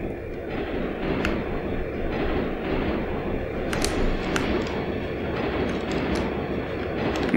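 A subway train runs through a tunnel in the video game Turok 3, with a loud, steady rumble of rolling cars and sharp rhythmic clicks and clacks from the wheels over the track.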